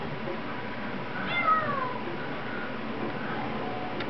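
A cat on a television meows once, thin and slightly drawn out, over a steady background hiss with no talking.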